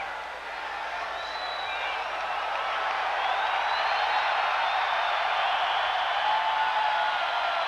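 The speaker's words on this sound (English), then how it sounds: "Crowd with simply another ovation for Montana as he trots into the Ineligible field" A stadium crowd at a 1992 Lions at 49ers NFL game gives Joe Montana a steady, sustained ovation, a broad wash of distant cheering and applause that swells slightly and holds throughout.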